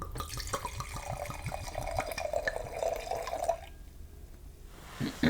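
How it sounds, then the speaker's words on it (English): Port wine poured from a bottle with a small plug-style stopper, a steady trickling stream of liquid for about three and a half seconds, close and clear, ending before a brief soft clunk. "let's get an ASMR pour here"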